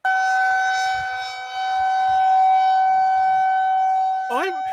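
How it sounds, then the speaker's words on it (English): A loud, steady tornado siren wails on one sustained tone, with faint low rumbles beneath and a brief bending horn-like blip near the end. "We have tornado sirens."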